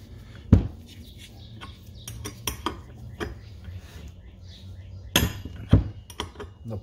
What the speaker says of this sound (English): take a 7/16 wrench, put it on there, and just start to tighten it.